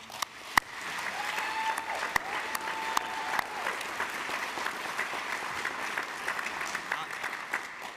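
An audience at a brass band championship applauds steadily throughout, a dense even wash of clapping with a few sharper claps standing out, alongside a faint steady tone.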